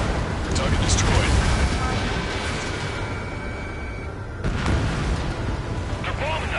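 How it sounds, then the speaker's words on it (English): Bombs exploding in the combat flight game Ace Combat 7: Skies Unknown: a steady heavy rumble with a fresh boom partway through, under radio chatter and a loud game soundtrack. "They're bombing us."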